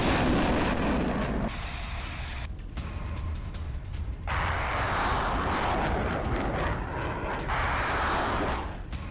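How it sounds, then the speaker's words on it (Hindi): A Buk air defense system launches missiles, with a loud, sustained rushing roar of rocket motors that surges and drops across several launches and no voices. "बक एयर डिफेंस ने दागी है मिसाइलें"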